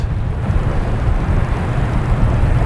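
Airbus A321 airliner at Boston Logan Airport, a loud, steady, close jet engine roar heavy in low rumble, continuous throughout with no voices.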